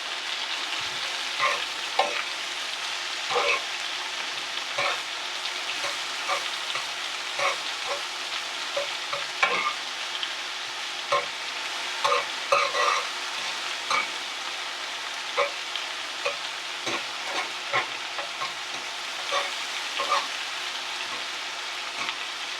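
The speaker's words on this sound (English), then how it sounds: "add a little bit more butter to it. Onions going well." Onions frying in butter in a pan, a continuous close sizzle with frequent small pops and crackles and occasional stirring scrapes, no talking over it.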